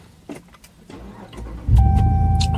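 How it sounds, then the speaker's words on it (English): A 2020 Ram 1500 Rebel pickup engine starting: quiet clicks and a brief crank, then the engine catching with a loud, steady low rumble as a dash chime tone sounds. "I'm not doing anything other than starting the truck."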